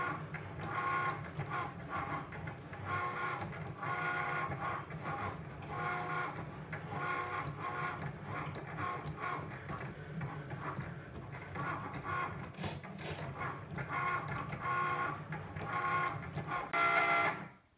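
A blade cutting machine runs through a cut, with its motorized carriage whirring and stuttering in quick back-and-forth bursts, a close mechanical chatter that varies in rhythm and ends abruptly.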